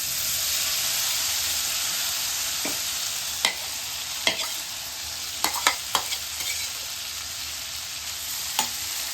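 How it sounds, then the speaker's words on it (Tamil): Paneer frying in melted butter and oil for paneer butter masala, a steady loud sizzle with scattered sharp pops and crackles throughout. "பட்டரும் ஆயிலும் நல்லா மெல்ட் ஆயிடுச்சு. இந்த நேரத்தில் பன்னீர்லாம் ஆட் பண்ணிக்கலாம்."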